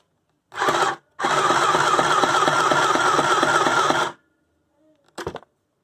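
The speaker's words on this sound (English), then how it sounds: "And that's how it's stitching." A new double thread sewing machine stitching: a short burst of motor whir, then a longer steady run of rapid, rhythmic needle clatter lasting about three seconds, close and loud, followed by a brief final burst.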